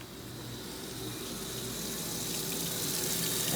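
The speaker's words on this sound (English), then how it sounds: "just gonna pump out water now. Come out there nice and strong." Water from a washing machine draining pump gushes steadily and strongly out of a hose, a continuous close rushing splash that grows slightly louder over its length, with a faint motor hum beneath and no talking.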